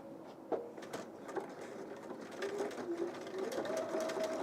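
A sewing machine stitches binding, a quiet rapid mechanical whirring with a rising pitch and small clicks as the needle runs, near and soft.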